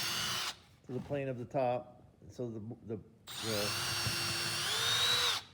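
A power drill bores a pilot hole straight down into a workbench top, its whine rising loud and steady for about two seconds after a stretch of nearby talking.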